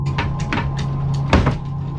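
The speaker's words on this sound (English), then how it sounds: "Then a door falls open on the cupboard behind the table." A cupboard door behind a table falls open with a few knocking and creaking bumps over a steady low hum, one sharper thump standing out near the middle.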